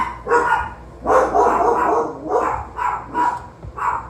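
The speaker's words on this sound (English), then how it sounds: "Of course the dog's gonna go off when I'm banging on the counter." A dog barks in repeated bursts over about four seconds, loud and close indoors in a home kitchen, the barks coming in an uneven rhythm with no talking.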